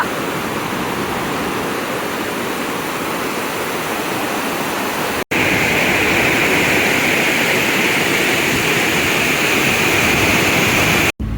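A loud, constant roar of rushing water from Jog Falls in India, running heavy with released water, fills everything, broken by a brief cut partway through, with no voices.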